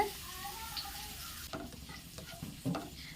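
Ginger fries in hot oil for Kerala-style inji curry, a close, steady sizzle broken by scraping stirs and spoon knocks against the pan, with no talking.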